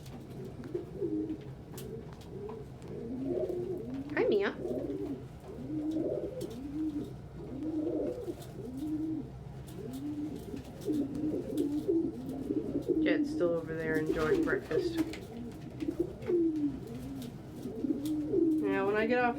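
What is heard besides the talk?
pet birds cooing at breakfast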